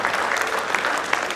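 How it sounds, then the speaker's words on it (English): A crowd at a high school seniors' career summit applauds the athletes, dense steady clapping that fills the room for a brief moment, loud and close with no voices standing out. "let's give them a round of applause"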